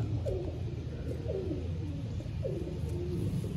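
Dub-type pigeons of Lahore stock coo on a rooftop in Sialkot, repeated rolling low calls in a regular rhythm over a constant hum of ambient noise.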